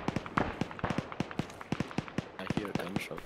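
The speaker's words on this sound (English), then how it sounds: "I hear gunshots." Rapid gunfire rattles through a WWII battle video game set at Lyuban, a machine gun firing sharp, closely spaced bursts that crack and pop in quick irregular rhythm.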